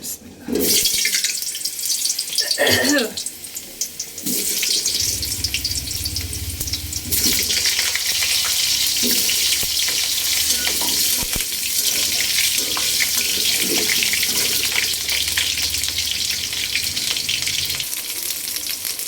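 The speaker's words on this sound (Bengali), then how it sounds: "তো আমি এই চুলায় পাবদা মাছটা ভাজতে দিয়ে দিছি। আমি একটু আলুটা ভাজা দিয়ে নিই মুরগির জন্য।" Pabda fish and potatoes fry in hot oil on a stove. After some early clatter, a loud, steady, close sizzle holds for most of the stretch.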